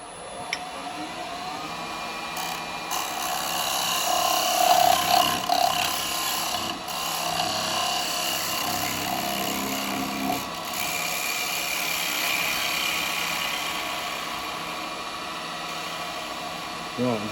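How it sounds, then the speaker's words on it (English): A spalted beech bowl spins on a wood lathe as a carbide bowl gouge cuts it, giving a steady whirring hum with a rougher scraping swell near the middle, alone throughout. "This is a carbide bowl gouge."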